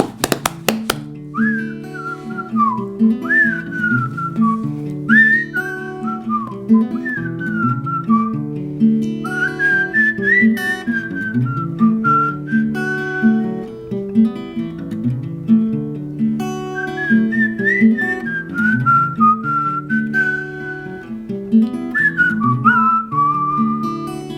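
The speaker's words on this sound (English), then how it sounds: "And the whistling song would begin." Someone whistles a melodic tune over a steady instrumental accompaniment, the whistled phrases rising and falling clearly for the whole stretch.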